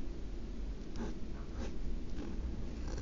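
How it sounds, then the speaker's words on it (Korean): Pen writing Korean Chuseok greeting words by hand on a greeting card, a soft continuous scratching of the nib with a few slightly stronger strokes, close and quiet with no talking. "그 다음에 밑에 줄에 한가위 되세요라고 적어 볼게요"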